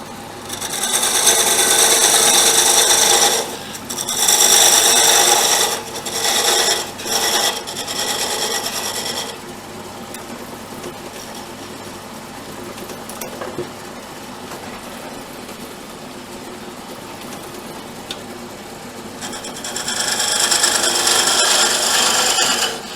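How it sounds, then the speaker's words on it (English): A parting tool cuts red oak tenons on a spinning lathe, a loud, close, hissing scrape that comes in several long passes broken by short pauses, with the lathe's quieter hum running between cuts. "I first part the two tenons with a parting tool"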